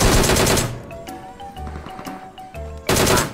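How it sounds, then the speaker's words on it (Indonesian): Gunfire in the mobile battle-royale game PUBG Mobile: two loud, dense automatic bursts open and close the stretch, with scattered fainter shots and in-game rattles between them. "Siapa nembakin gua dari belakang?"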